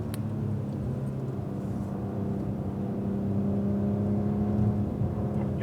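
A Cadillac ATS-V pulls out of a corner on the COTA racetrack, its engine a steady, loud in-cabin drone that swells gradually under power, with no speech over it.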